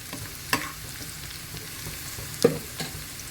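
Onions frying in hot oil for a tadka to go into dal, a soft steady sizzle with a couple of sharp stirring clicks near the pan, no voices.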